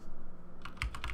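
A computer keyboard is heard briefly: after a quiet start, a few close, crisp key clicks land in quick succession near the end of the short stretch.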